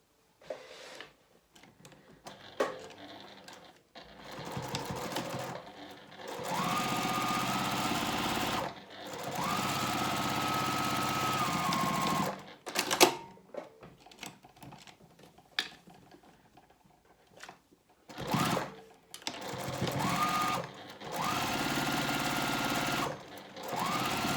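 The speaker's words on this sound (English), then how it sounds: "now I'm going to top stitch along these folded edges using 1/8 inch seam allowance, backstitching at the beginning and end." A sewing machine top stitches along the folded edges of a cotton 3D face mask, with steady whirring runs of several seconds broken by pauses and short backstitch bursts, close and loud with no talk.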